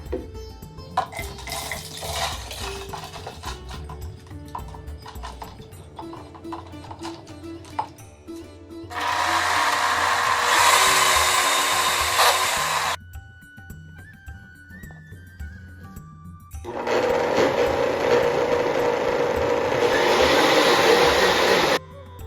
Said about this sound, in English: We can blend everything now.